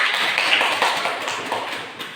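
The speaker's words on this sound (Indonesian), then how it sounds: "Tepuk tangan." A classroom group breaks into applause, a dense, steady patter of many hands clapping, close and lively for a couple of seconds.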